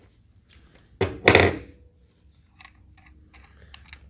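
A shifter wrench unscrews a ceramic disc tap spindle from a twin mixer, giving a short burst of metallic clanks and scrapes followed by faint light clicks.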